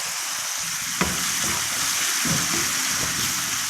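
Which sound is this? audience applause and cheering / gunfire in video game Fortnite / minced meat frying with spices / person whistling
minced meat frying with spices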